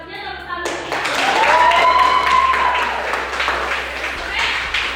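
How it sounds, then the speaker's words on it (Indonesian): Students applauding in a biology classroom, a burst of clapping that swells and holds steady for several seconds, close and lively, following a teacher's voice at the start. "tepuk tangan."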